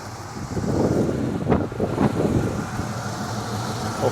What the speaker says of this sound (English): We've got a serious gust of wind.